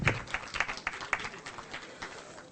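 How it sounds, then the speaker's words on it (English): A conference audience at an Islamic economics and finance event claps to welcome a guest, a short burst of applause that quickly thins and fades. "Kindly welcome our guest with a great round of applause."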